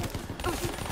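Rapid gunfire in Call of Duty: Black Ops III, a quick rattling burst of shots at moderate volume, brief and mixed with a voice in the background.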